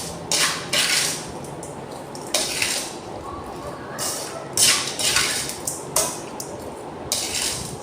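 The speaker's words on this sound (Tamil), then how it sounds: "ஸோ கடாய் சூடாக இருக்கிறதுனால நான் சிம்டாக யூஸ் பண்ணிக்கிறேன்." Metal tongs clinking against a hot kadai while making lemon rice, with sharp, irregular scrapes and taps spread over several seconds and a cook talking over them.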